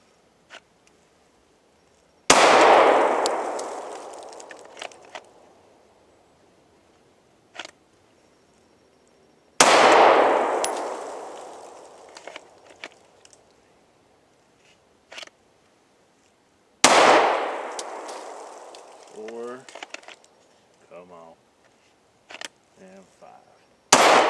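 Handgun shots on a range during a draw-and-fire drill, three loud sharp reports spaced several seconds apart, each ringing out with a long decaying echo, alongside scattered clicks and brief talk.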